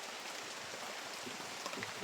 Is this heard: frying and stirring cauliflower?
no